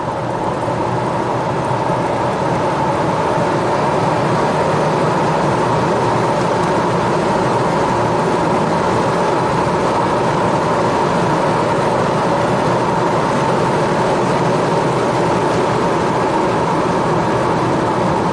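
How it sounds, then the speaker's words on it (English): An '07 Acura RDX turbo crossover cruises at about 60 mph on an open road under medium throttle, its steady engine and road roar holding constant and loud throughout. "we're going to get out on an open road and just cruise at 60 miles an hour under medium throttle"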